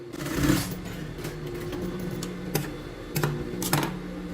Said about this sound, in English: run a few machine stitches and ensure the correct size and shape of the pocket mouth